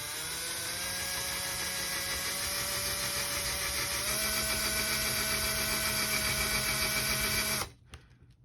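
A power drill with a half-inch bit drills steadily, a loud whirring motor drone with a tone that shifts slightly midway, ending abruptly when the drill stops near the end.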